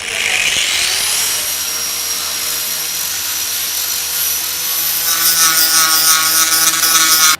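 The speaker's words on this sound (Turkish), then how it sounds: "İşlemimizi yaparken önce taşlamayla kabasını aldık." Angle grinder roughing down the steel body of a Fiat 131 during a classic car restoration, a loud continuous high-pitched whine grinding steadily throughout, harsher and more ragged toward the end.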